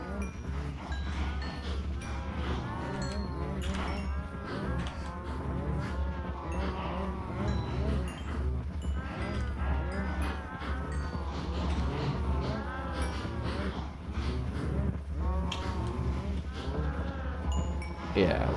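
Many cows moo in the Minecraft video game, their overlapping calls rising and falling continuously like a crowded herd over a steady low hum.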